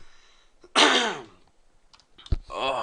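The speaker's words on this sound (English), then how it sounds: "Hold on, got a cough." A single harsh cough rings out loud and close, followed after a pause by a click and a second shorter cough.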